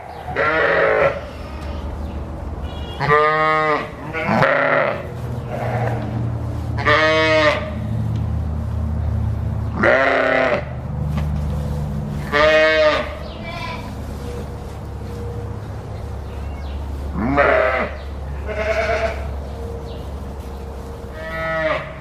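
Sheep bleat repeatedly in a barn pen during lambing, loud close calls at irregular intervals over a low steady background hum, with cattle also present in the barn.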